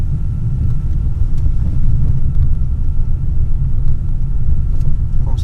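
Inside the cabin of a Mercedes-Benz E 250 Exclusive on the move, a low, steady road and engine rumble holds at an even level. Little else gets through.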